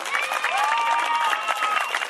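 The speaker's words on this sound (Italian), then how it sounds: "Dovete solo applaudire." Applause from a crowd at a local Corrida talent-show event in Maranola, steady clapping filling the whole short stretch with a few whistles or cheers mixed in.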